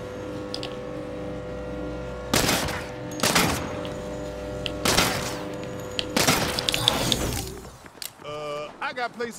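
Four heavy gunshots crack out at regular intervals over a steady humming background in the open-world game Saints Row, loud and close, followed by a burst of clattering, breaking noise near the end.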